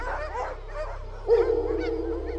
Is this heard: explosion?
no